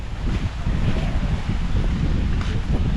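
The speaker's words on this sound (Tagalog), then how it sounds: "Malakas na naman ang hangin." Strong typhoon wind roars steadily and loudly against the microphone, a dense, unbroken rumble with gusty buffeting throughout and no voices.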